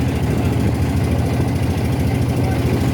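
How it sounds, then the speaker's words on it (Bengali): A boat engine idles in a loud, steady drone with a low throbbing pulse on a boat trip under the Padma Bridge. It runs close and unbroken throughout. "আমরা এখন পদ্মা সেতুর নিচে নৌকা ভ্রমণে।"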